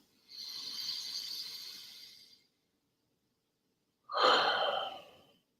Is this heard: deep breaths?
yes